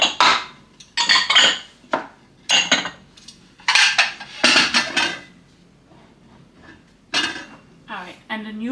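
Ceramic bowls and dishes clink and clatter in irregular bursts as they are stacked into a kitchen cupboard during a decluttering session, close and fairly loud with short pauses between handfuls.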